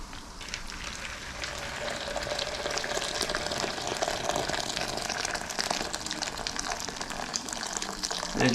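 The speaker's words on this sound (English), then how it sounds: "The water has boiled." Water at a rolling boil in a pot on the stove while stock is made, a steady close bubbling hiss that runs evenly throughout without talk.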